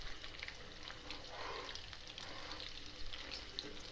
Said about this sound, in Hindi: फिर हम इसमें डाल देंगे अपनी जो दूध में भिगोई हुई सूजी